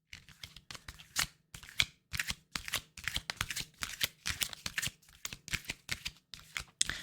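Tarot cards shuffled by hand in quick, crisp bursts of riffling and snapping, close and clear, with short pauses between each pass and no talking.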